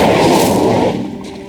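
An Incendio fire spell cast in the Hogwarts Legacy video game lets out a loud, whooshing burst of flame that roars for about a second and then fades.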